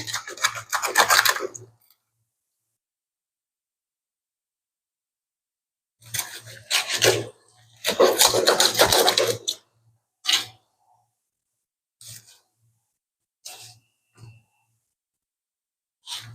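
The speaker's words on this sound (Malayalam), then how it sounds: "ഇത് വെട്ടിപ്പൊളിക്കലാണ് ഒരു ടാസ്ക്" A yellowfin tuna head is hacked open in loud, close bursts of rough cutting and scraping. They come in clusters separated by silent gaps, and the later bursts are shorter and sparser.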